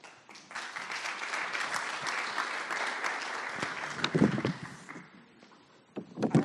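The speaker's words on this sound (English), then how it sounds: "can we give another applause to Todd?" Applause from an audience at a business morning meeting rises quickly and holds as steady clapping for about four seconds, then fades. A few scattered claps follow, and a short burst picks up again at the very end.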